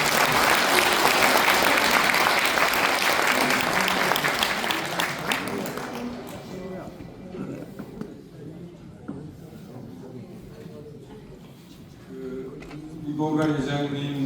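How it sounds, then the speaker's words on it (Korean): Audience applause in a hotel grand ballroom after a humanities lecture by a construction company chairman, loud dense clapping for about six seconds that fades into room murmur and talk, with a brief swell near the end. "좀 큰 박수 부탁드립니다."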